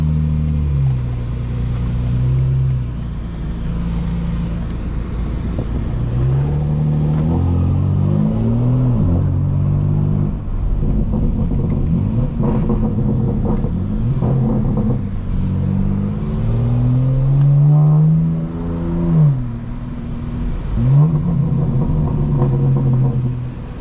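A 2025 BMW M4 Competition in all-wheel drive with its exhaust valves open revs up through the gears in rising and falling pulls, with loud, close engine and exhaust rumble throughout and no talking.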